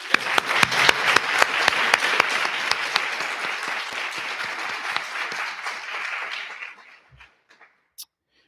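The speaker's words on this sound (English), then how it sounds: "So I am asking the students present to join me in a round of applause for the Teague family." An audience of students applauds at a university lecture. The clapping is loud and sustained for about seven seconds, then trails off into a few scattered final claps.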